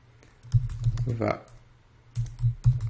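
Keys clatter on a Mac computer keyboard while a shell script is typed in the OS X El Capitan terminal, coming in two short bursts of close, uneven clicks with a pause between them. Someone speaks quietly at the same time.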